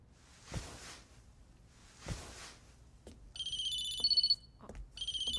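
A landline-style telephone rings in electronic bursts after two soft thumps, the shrill warbling tone loud and close, pausing briefly and then starting again.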